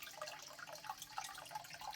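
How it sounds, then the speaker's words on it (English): Cold, fresh spring water from a mountainside in the Serranía de Ronda pours into a pool at an old mill, a steady close trickle and splash with small drips throughout. "It's pretty cold, straight out the mountainside. Very fresh water."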